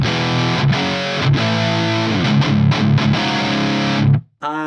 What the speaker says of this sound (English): I want to move on to the OD channel of the JVM, OD Orange to be precise, and that sounds like this.